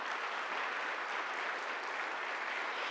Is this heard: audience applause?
yes